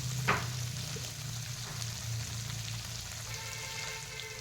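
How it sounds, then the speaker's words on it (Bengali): Half a spoon of five-spice seeds sizzles in hot oil as it is gently stirred, giving a soft, steady frying hiss with a faint clink early on, quiet and alone. "ফোড়নটা তেলের মধ্যে দিয়ে হালকা নাড়াচাড়া করে নিব।"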